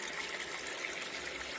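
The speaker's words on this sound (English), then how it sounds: "splash that out of the pan" Water splashes and trickles out of a gold pan over a Miller table, a soft continuous wash of running liquid heard up close and fairly quiet, with no talk.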